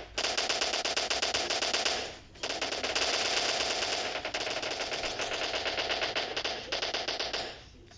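Rapid automatic gunfire in PUBG's zombie mode rattles almost continuously in dense bursts, breaking off briefly around the two-second mark and again near the end, loud and close with no talk over it.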